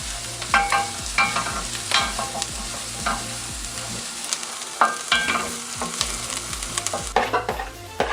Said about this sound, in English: Add in your onions and then saute them until they're translucent.